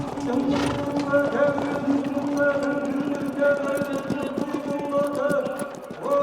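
Steady clip-clop of racehorses' hooves on victory laps after a race, continuous and fairly close, with a busy crowd murmuring and a voice over the top.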